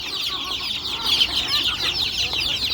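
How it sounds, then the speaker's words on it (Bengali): Hens, several of them half-blind and about one and a half to two years old, clucking nearby in a steady overlapping chatter of soft calls, no voices. "এই যে আমার চারটা কানা মুরগি আছে, এক চুক কানা।"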